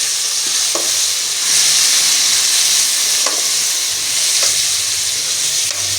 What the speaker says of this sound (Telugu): ఇలా ఫ్రై అయ్యాక టమాటా వేసుకోండి. 1/2 kg టమాటా వేస్తున్నాను.